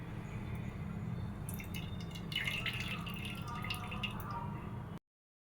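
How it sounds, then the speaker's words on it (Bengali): Oil is poured into a cooking pan. A soft, close trickle with light dripping and splattery bursts runs for about five seconds under a low background hum, then cuts off. "কড়াইতে দিয়ে দিব এবার তেল"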